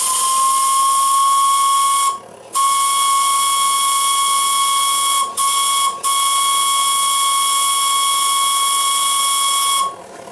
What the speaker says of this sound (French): ce sifflet s'exprime.